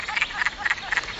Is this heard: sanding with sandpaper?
no